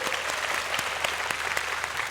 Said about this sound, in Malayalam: നല്ല കൈയടി കൊടുക്ക്